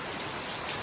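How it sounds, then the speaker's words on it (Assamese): Steady rain pours down outdoors, a dense, even hiss of falling drops with no voices. "যেনেকৈ বৰষুণ আহি আছে আহিয়ে আছে"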